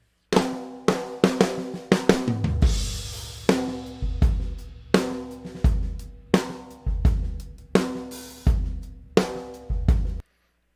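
Unprocessed acoustic drum kit recorded in a small room, with steady kick and snare hits, bright cymbal and hi-hat wash and a sustained crash early on, played loud and close in a regular groove with no talking.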